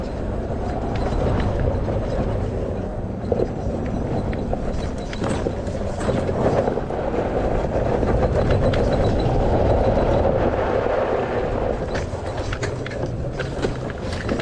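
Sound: Christini electric ATV driving down a sand wash

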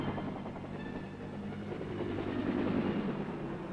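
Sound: Huey helicopter taking off and flying

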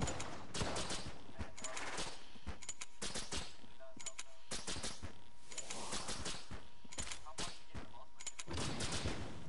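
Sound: gunfire in a video game

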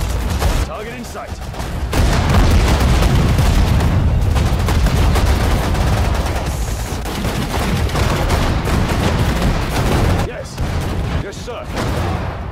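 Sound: machine gun fire in Sudden Strike 4 video game

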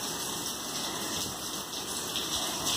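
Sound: rain falling outdoors

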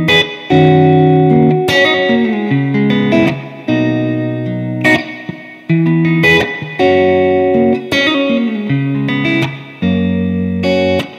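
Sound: NUX MG-300 drum machine rhythm, vintage preset 9B

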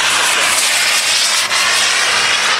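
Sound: model aircraft flypast at model show

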